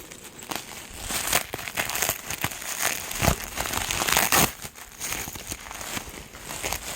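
Crinkling and crackling bubble wrap, steady and close, with sharper crunches and tearing bursts as a parcel is unwrapped and pulled apart.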